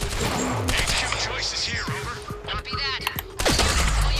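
Enemy gunfire in the video game Quantum Break, dense bursts of shots and impacts mixed with game effects and music, with a player talking over the action throughout.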